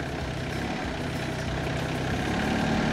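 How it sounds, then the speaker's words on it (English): Small tractor engine idling in a sawmill log yard, a steady low rumbling chug holding even throughout, moderately close with no voices. "this little tractor though is so handy"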